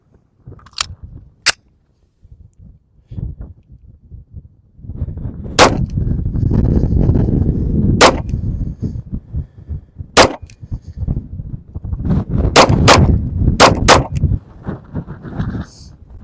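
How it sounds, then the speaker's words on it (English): Handgun shots ring out loud and sharp: an aimed group of three spaced shots, then quick pairs of double taps, over steady outdoor wind and range noise. "I'm going to attempt to fire 3, I guess, aimed shot group, and then I'll fire 2 double taps"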